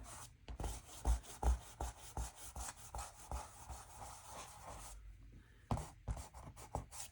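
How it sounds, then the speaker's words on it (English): A kneadable eraser is rubbed over pencil lines on watercolour paper, making close, quiet, rhythmic scrubbing strokes in quick repeated bursts, with a short pause before the rubbing resumes. "Run my kneadable eraser over all the pencil."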